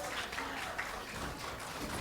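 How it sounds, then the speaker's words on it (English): Broadcast of a college bowling match at the USBC Men's Intercollegiate Team Championship, with a loud arena crowd cheering and clapping steadily throughout, a dense wash of applause and voices. "You hear the crowd. Raucous today."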